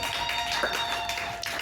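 Congregation in a church service clapping together, a dense continuous wash of many hands close and loud, steady throughout.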